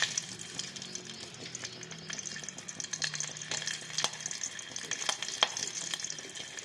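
Half a bulb of garlic frying in hot oil for Karnataka-style tomato bath, a soft steady sizzle with faint crackles and occasional stirring clicks, quiet and close with no talking.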